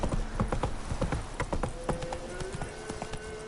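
Horse's hooves clip-clop in a quick, steady galloping rhythm as a mount runs in The Witcher 3: Wild Hunt, loud and close, with a faint rising tone underneath.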